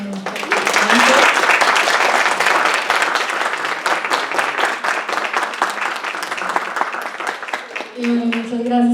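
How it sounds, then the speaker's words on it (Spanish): An audience at an academic panel at a heavy metal film festival gives the participants a big round of applause, sustained clapping that swells early and then tapers, with a voice speaking over it near the end. "Les pido un gran aplauso acá a los participantes"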